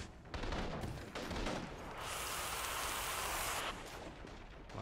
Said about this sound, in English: Why am I hearing gunshot?